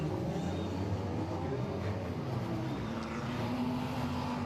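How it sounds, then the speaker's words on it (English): An Audi GT4 race car rolls down the pit lane at the Macau Grand Prix GT4 qualifier, a steady broadband engine drone and road roar with no distinct revving, continuous throughout. "as the Audi of Miguel Lay goes down the pit lane"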